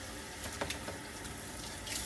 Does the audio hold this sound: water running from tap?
yes